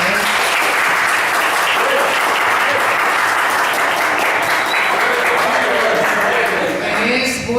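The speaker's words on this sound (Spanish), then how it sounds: "Quiero que nos demos un fuerte aplauso." A seminar audience claps steadily and loudly. The applause is a dense wash that holds for several seconds and thins slightly near the end.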